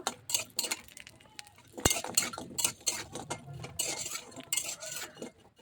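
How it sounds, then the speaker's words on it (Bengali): A metal spoon stirs and scrapes lentil dumplings (kalai bori) frying in oil in a wok, with repeated light clinks and taps against the pan, close and fairly quiet. "প্রথমে কড়াইতে তেল দিয়ে দিয়েছি আমি দিয়ে কলাই বড়ি দিয়ে দিয়েছি এগুলোকে একটু ভালো করে ভেজে নেব"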